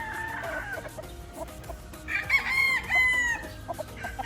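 A Sweater-breed gamefowl rooster on a gamefowl farm clucks softly in short bursts, then crows loudly and nearby, followed by more low clucks.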